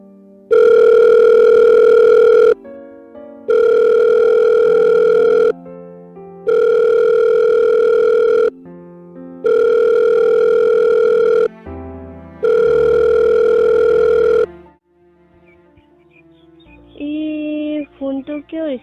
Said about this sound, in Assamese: আকৌ এবাৰ কল কৰি চাওঁ ৰহ